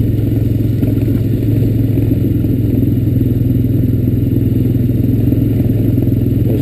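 Honda Recon ES ATV engine running steadily at a low, even drone throughout, close and fairly loud, with faint clatter from riding over a grassy track and no voices.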